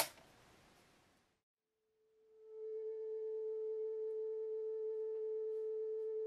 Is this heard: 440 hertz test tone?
yes